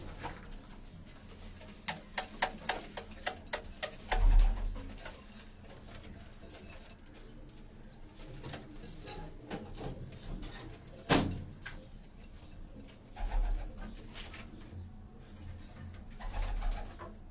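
Rooftop pigeons at a Karachi loft, with a few soft coos and bird calls against faint background clatter, some sharp clicks and a burst of wing flaps or handling noise, and no talk.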